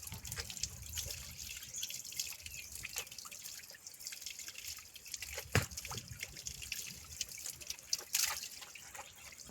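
Water trickles and drips steadily from a pipe near a dam, with a few sharper splashes standing out from the continuous flow.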